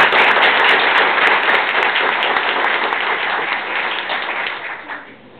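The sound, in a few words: applause for the finalists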